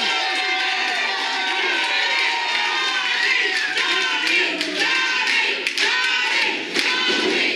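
A wrestling crowd at a regional television title match cheers and shouts continuously, a dense, loud roar with scattered claps and whistles building and surging throughout.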